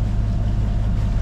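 A sailboat motors along under engine power with sails partly out at five to six knots, a loud steady low engine drone and hum with wind and water wash over it, no voices.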